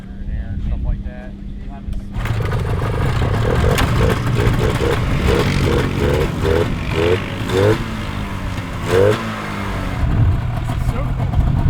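A custom-built snowmobile engine runs loud and rough at a drag strip event, revving in repeated rising bursts between steady running, with voices talking over it.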